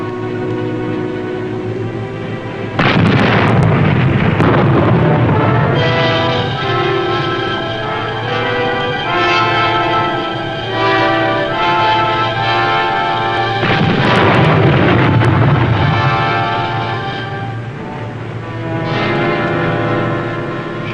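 Deck guns aboard the submarine Bowfin fire in heavy booming blasts with explosions, two big bursts standing out over a continuous loud rumble, and a sustained tonal drone runs throughout.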